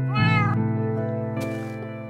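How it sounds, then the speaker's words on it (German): A Minecraft cat gives a single clear, close meow, a short rising-then-falling cry with a brief rustle after it and no talking. "Kommst du mal mit, Katze?"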